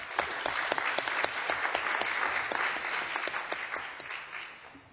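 Audience applause for a group at a conference on an African partnership against desertification and land degradation, a steady burst of clapping lasting several seconds and easing off at the end.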